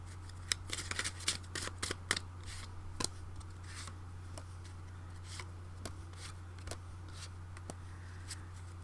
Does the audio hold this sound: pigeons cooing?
no